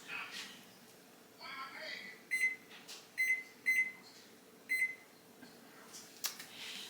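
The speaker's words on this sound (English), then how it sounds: "my timer's going off, so I am going to take the foil off." A kitchen oven timer goes off while meatloaf bakes, four short bright beeps in quick bursts over quiet room hiss, with faint clatter around them.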